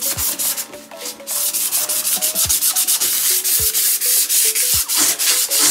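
A diorama piece for an F-35B model being sanded by hand, producing a loud, close, continuous scratchy rasp in rapid back-and-forth strokes with no pauses or speech.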